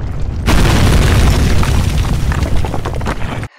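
A deep, continuous earth-shaking rumble echoes through a mine in the Penumbra: Overture video game, loud and sustained for several seconds before cutting off abruptly.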